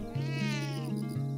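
A cat in the video game Sumire meows in a long, drawn-out rising and falling call, close and clear over a soft steady in-game background hum.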